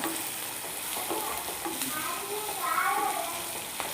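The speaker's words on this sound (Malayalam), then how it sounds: "എന്നിട്ട് ഇത് നല്ലപോലെ വഴറ്റി നല്ല ഗോൾഡൻ കളറാകുന്നത് വരെ നല്ല രീതിയിൽ വഴറ്റി കൊടുക്കാം" Sautéing in coconut oil until golden, a continuous close sizzle with soft stirring scrapes, fairly quiet and even throughout, with faint background voice.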